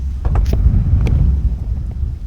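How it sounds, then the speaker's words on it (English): Strong gusts of 65-mile-an-hour wind buffet an RV, producing a loud, constant low rumble and roar with a few brief higher rattles, close and steady with no talk. "Oh my gosh, the wind is crazy."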